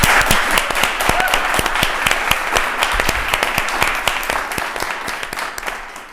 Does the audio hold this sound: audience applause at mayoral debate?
yes